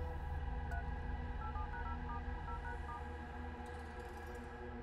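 A telephone being dialed, with a quick run of short keypad tones over a steady low hum and faint background noise.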